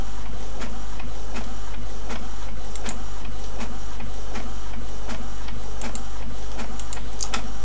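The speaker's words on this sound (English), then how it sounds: "And it's printing." An Epson L365 inkjet printer prints a test page, a loud constant mechanical drone with regular ticking carriage clicks, heard alone without speech.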